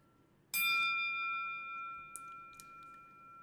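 A single bright electronic bell-like beep from a wrestling video game rings out sharply, then sustains with a clear, steady tone that slowly decays, with two faint clicks afterward.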